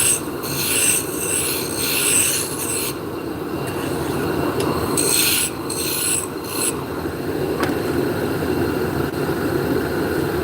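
A spindle gouge scrapes across wood turning on a lathe, giving a steady, loud rasping hiss that swells and eases in repeated passes over about ten seconds, with no one talking.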